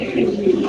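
A pigeon on a pigeon farm gives a brief, fairly loud, low throaty coo with a speaking voice audible around it.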